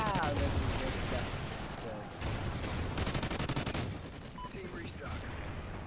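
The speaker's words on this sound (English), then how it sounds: "I love the effects of the explosive ammo" Explosive ammo gunfire in a multiplayer shooter on a ruins map, a dense, continuous barrage of blasts and rattling shots filling the clip, with players talking over it.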